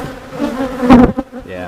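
Honey bees buzz loudly at a hive box on a farm apiary, a dense close-up drone with overlapping wing tones that swells briefly near the middle.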